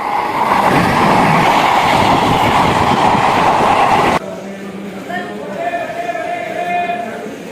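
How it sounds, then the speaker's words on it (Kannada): A toy train at Mysore Zoo rolls past close by with a loud, steady rumbling clatter for about four seconds. The noise then cuts to quieter outdoor ambience with people talking. "ಟ್ರೈನ್ ಹೋಯ್ತಾಯ್ತು."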